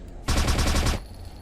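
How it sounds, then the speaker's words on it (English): Rapid burst of gunfire from a weapon in Vender, a ragdoll-physics video game under development, roughly eight quick shots lasting under a second, loud and close, then stopping abruptly. "I'm going to shoot the weapon here and try to shoot it mid-air"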